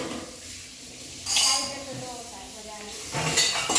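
Ritu scrubs dishes and pots in a home kitchen, with brief bursts of clinking metal and scraping around the middle and again near the end, under quiet background chatter.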